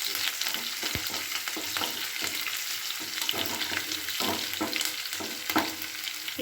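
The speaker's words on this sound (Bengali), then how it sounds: "দিয়ে আমি এখানে খুব ভালো করে রসুনটাকে লালচে মতো করে ভেজে নেব।" Chopped garlic and slit green chillies frying in hot oil, a steady close sizzle punctuated by sharp spoon-on-pan taps and stirring scrapes, no voices.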